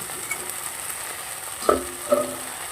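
Spice masala frying in oil produces a low, steady sizzle close by, broken by two distinct scraping stirs of a spoon against the pan near the end.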